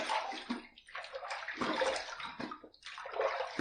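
Water splashing and sloshing in cupped hands at a sink as a face is rinsed after a wet shave, several close bursts of running and splashing water with short pauses between them.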